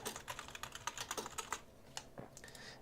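Rapid, uneven keystrokes clatter on a computer keyboard close by, a quick burst of clicks that slows into a few scattered taps, fairly quiet and with no talking.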